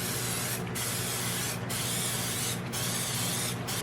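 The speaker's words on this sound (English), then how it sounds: "Just a spray oil." Steady hissing spray with brief pauses roughly every second, continuous aerosol bursts of cooking oil close to the microphone, no voices.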